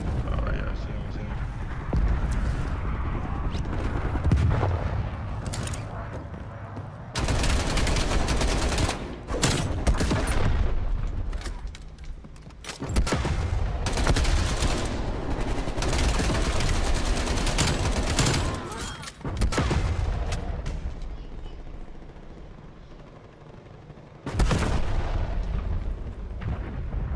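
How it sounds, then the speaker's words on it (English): Gunfire and explosions from a Call of Duty Dirty Bomb match, aimed at a tank, erupt in loud, dense bursts with short gaps. A player talks over the din at times. "Am I shooting a tank in here?"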